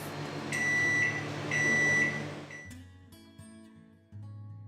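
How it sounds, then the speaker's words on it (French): A microwave oven hums steadily while heating a bowl of water, with high beep-like tones at intervals, then the hum cuts out, leaving quieter clicks and a low mechanical drone near the end. "on va le mettre dans le micro-ondes pendant environ 1 minute, le temps que l'eau elle chauffe"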